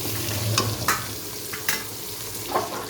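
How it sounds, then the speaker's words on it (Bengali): Taro and potato pieces fry in a pan with a constant close sizzle, punctuated by three or four distinct scraping strokes of a spatula being stirred through them. "একটু আলু কচুটা ভাজা করে নিই"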